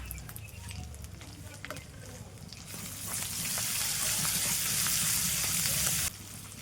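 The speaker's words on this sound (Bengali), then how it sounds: "এবার দেবো জিরে বাটা আর লঙ্কা বাটা" Cumin paste and chili paste fry in a pan with a low crackle that swells into a loud, dense sizzle partway through, holds steady for a few seconds, then drops back abruptly.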